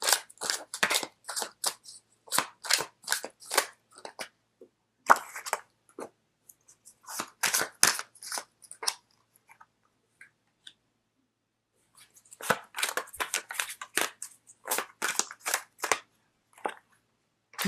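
Tarot cards are shuffled and drawn in quick bursts of crisp flicks and snaps, close and fairly quiet, with pauses between handfuls.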